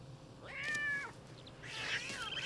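A cat in The Sims 3 lets out two drawn-out meows in quick succession, with the second one rougher and louder. The calls sound near but fairly quiet.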